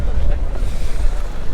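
Strong wind buffets the microphone outdoors at a motor show, a loud, constant low rumble of gusting noise throughout.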